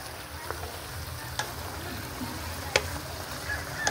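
Adobong sitaw with chicken liver being stirred in a pan, a steady close sizzle of frying with occasional scraping clinks of the utensil against the pan, no talking.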